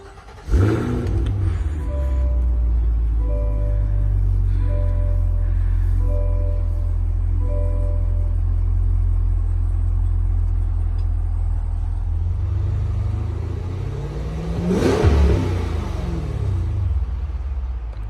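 A 2023 Cadillac Escalade V ESV fires up with a loud burst and settles into a deep, steady idle, then gives a sharp rev that rises and falls near the end, close and alone.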